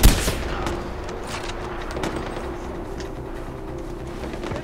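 Gunfire and explosions in the Far Cry 4 shooter game, with a loud burst at the start followed by a steady roar of battle noise and scattered sharp shots, with no talking.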